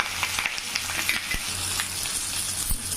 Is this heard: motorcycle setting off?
no